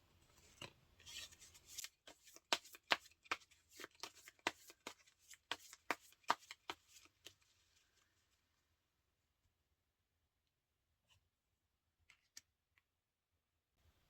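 Tarot cards are shuffled briskly with a quick run of crisp riffling flicks, and after the shuffle a few separate soft taps follow as cards are drawn and laid down in a quiet room.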